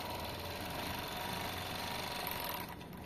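A sewing machine overlocks the front crotch seam of a zippered fly, running at a steady fast whir close by, then easing slightly just before it stops, with no talking.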